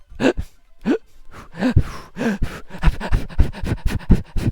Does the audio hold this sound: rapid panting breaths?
yes